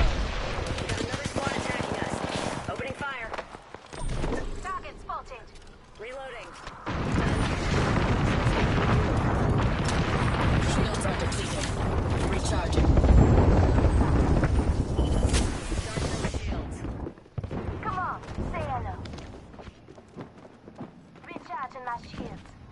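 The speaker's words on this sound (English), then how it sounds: "Another squad attacking us. Opening fire." Gunfire from an Apex Legends squad fight, bursts of shots crackling in dense clusters through most of the stretch, fairly loud and continuous with brief lulls, while voices talk over the action.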